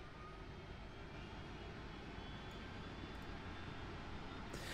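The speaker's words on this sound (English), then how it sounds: "I think I hear the APU starting up" An Airbus A319 auxiliary power unit, a small jet engine in the tail, spools up inside a flight simulator game, giving a steady loud broadband roar with a faint rising whine and no talk.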